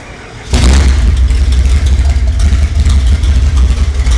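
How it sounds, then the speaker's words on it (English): A car engine fitted with aftermarket headers and a Flowmaster 40 Series Delta muffler on one side fires up with a sudden loud burst, then settles into a deep, rumbling, lumpy idle heard up close. "Just showing you guys what the headers sound like."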